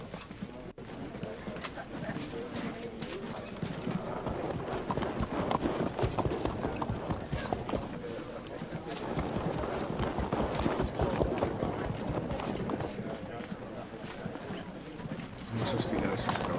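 Cavalry hooves in Field of Glory II clatter in a dense, continuous clip-clop of many horses moving together, loud and steady, with a voice talking over parts of it.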